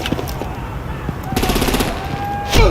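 Rapid gunfire erupts in Batman: The Enemy Within, a burst of repeated shots around the middle of the clip and a louder blast near the end, set against a tense mix of game sound.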